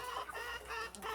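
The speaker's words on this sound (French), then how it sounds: "Voilà mon petit coq perdrix maillé doré bleu." A blue gold-laced partridge-coloured rooster clucking up close, a short series of throaty clucks and squawks without talking.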